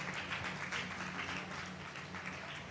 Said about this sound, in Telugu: ఒకసారి చప్పట్లు కొట్టి దేవుని నామాన్ని మహిమపరుద్దామా?